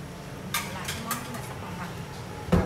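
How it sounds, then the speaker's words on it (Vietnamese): Fried crab goes into a pan of reduced tamarind sauce, with several sharp clatters of shells and utensils against the pan over a faint sizzle, and a louder clunk near the end. "Sau khi sắc lại chúng ta sẽ bỏ cua vô."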